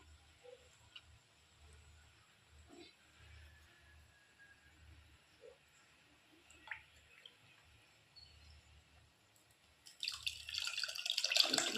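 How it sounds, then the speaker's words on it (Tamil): Tamarind water, dissolved in hot water, is poured into a pot of rasam, a sudden close splashing pour near the end after quiet drips and light kitchen clinks. "நெக்ஸ்ட்டு புளி தண்ணி ஊற்றிடலாம்."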